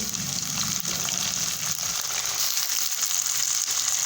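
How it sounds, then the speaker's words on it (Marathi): Fried onion and peanuts sizzling in a pan, a steady, loud crackling hiss that holds evenly from start to end with no talk over it. "कांदा फ्राय झालेला आहे आपण शेंगदाणे टाकून घेऊ"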